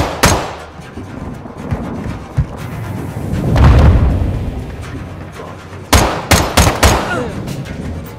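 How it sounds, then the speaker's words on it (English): Call of Duty Modern Warfare 2 campaign combat: a heavy grenade blast booms midway, framed by sharp, loud bursts of gunfire cracking in quick clusters near the start and end. "Grenade!"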